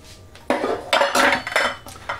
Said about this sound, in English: First things first, I say grab your muffin pans